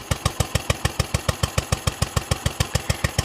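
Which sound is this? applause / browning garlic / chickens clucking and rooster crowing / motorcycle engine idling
motorcycle engine idling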